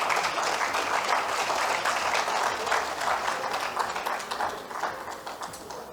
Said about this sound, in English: let's give them a big round of applause again.